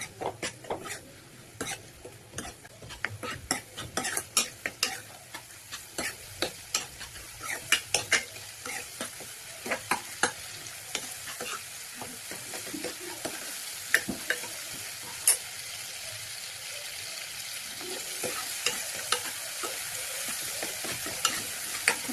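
Masala sautéing in a pan for a Tamil tamarind curry, with a steady close sizzle and frequent clicks and scrapes of a spoon stirring against the metal.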